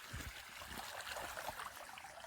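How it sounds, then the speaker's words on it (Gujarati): Water from a farm pump runs in a steady, moderately loud stream, splashing and trickling continuously with no voices over it. "હવે પાણી આવે મિત્રો જોઈ લ્યો પાણી આવે"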